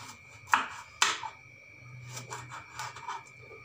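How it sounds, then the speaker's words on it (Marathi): A knife cuts through an eggplant on a board, trimming off the stem. Two sharp close cuts land early, followed by quieter, irregular slicing and rustling, with no voices. "आता वांगे कसे कट करायचे ते दाखवते। थोडीशी दांडी काढून घ्यायची वांग्याची।"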